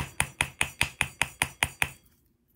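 A nylon mallet taps wire being shaped for a wire-wrapped statement necklace. Nine crisp, evenly spaced strikes ring out close by, then stop into near silence.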